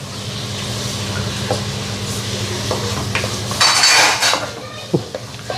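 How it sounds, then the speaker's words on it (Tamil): Tomatoes tipped into a pot of cooking mutton curry, with metal spoon scrapes, clinks against the pot and a steady sizzle underneath, ending in a brief louder clatter and rattle. "தக்காளி போட்டுடலாம்"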